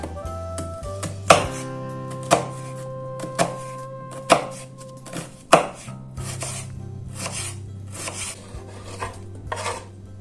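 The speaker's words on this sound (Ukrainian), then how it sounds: "Беремо половинку червоної цибулі та подрібнюємо її." Half a red onion is chopped on a board with sharp, evenly spaced knife strikes, about one per second, followed by quicker, lighter cutting and scraping near the end.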